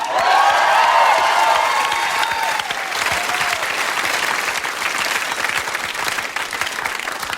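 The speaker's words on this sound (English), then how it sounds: "that was the best bullshit standing ovation I have ever seen" A studio audience at a TV talk show gives a standing ovation, with loud sustained clapping and cheering throughout that eases only slightly toward the end.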